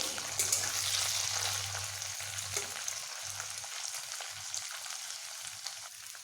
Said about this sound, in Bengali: প্রথমেই আমি এই পনিরগুলোকে ভালোভাবে ভেজে নেব